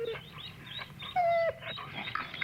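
A dog whines and whimpers in short, high, wavering cries, with a brief sustained squeal in the middle, fairly close and moderately quiet.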